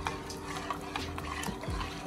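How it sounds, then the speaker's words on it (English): Jamaican cornmeal porridge stirred in a pot, soft wet swishing and thick liquid sloshing at close range, quiet and steady with a faint low knock near the end. "Just keep on stirring because we don't want any lumps in it"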